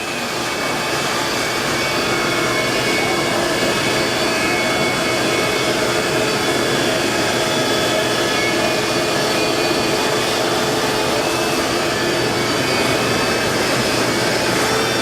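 A loud shop vacuum roars steadily and continuously up close, sucking up foam residue from a spa, with no voices audible over it.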